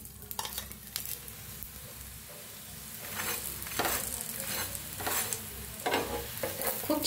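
Dahi dhapate flatbreads roast in oil on a hot pan, a steady close sizzle with bursts of scraping and turning, continuous and fairly loud, no talking.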